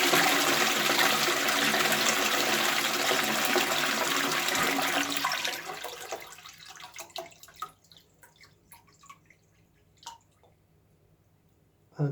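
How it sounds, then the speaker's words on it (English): A toilet is flushed during a repair of a leak into the drain pan: a loud, rushing torrent of water for about five seconds, then fading into trickles, drips and gurgles as the tank refills. "so I'm going to flush the toilet, and then once the seal goes back down"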